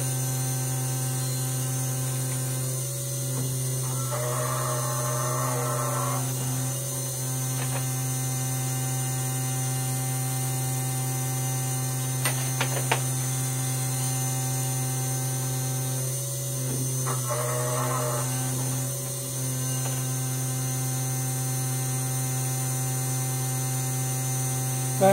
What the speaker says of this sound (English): I think you can hear the machine kind of load up when it's cutting